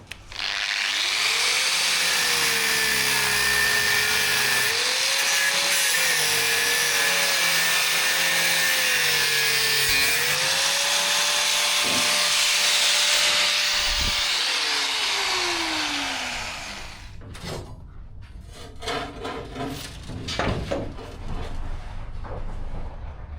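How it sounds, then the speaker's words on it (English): A power tool cuts a weld off a steel boat hull, whining loudly and steadily for about fifteen seconds with its pitch rising and dipping under load, then winding down before scattered clatter and knocks. "I'm just going to cut that weld off now to release it"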